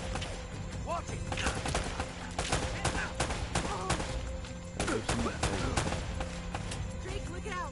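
Gunfire from the video game Uncharted: Drake's Fortune, a steady run of repeated shots and bursts across the whole stretch, with game voices and music mixed underneath.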